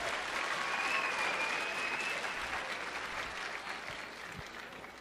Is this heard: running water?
no